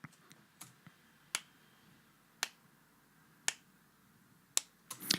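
Hand claps recorded by one person, played back in isolation as separate sharp snaps with gaps between them. They come at an irregular pace and sound dry and thin, with a couple of quicker claps near the end.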